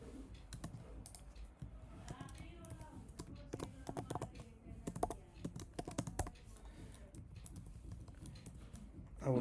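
Fingers type on a computer keyboard while coding a React TypeScript breadcrumb component, giving fast, close, irregular key clicks in short bursts over low room noise.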